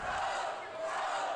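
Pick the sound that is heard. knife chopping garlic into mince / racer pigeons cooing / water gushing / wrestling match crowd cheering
wrestling match crowd cheering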